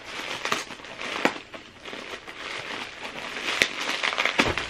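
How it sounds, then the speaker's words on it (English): Tightly packed bubble wrap packaging is peeled and unwrapped, producing soft, continuous plastic crinkling with a few sharper crackles, fairly quiet and close, with no talking. "Now we've got the bubble wrap off."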